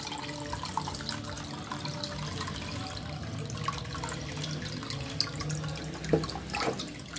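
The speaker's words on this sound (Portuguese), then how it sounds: "Virou aqui nessa peneira, tirar esse excesso de água." Water drains out of wet egg-carton paper pulp held in a small sieve, a steady trickling and splashing flow with a few drips near the end, close and continuous, with no talking.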